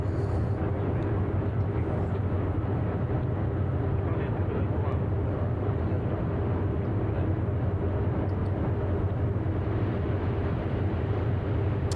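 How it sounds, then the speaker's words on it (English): Landing gear of an Airbus A350 in Microsoft Flight Simulator 2024 makes a loud, constant low rumbling roar of wind in the cabin above the gear. It holds steady throughout. "apparently that is just the sound of the gear in the wind"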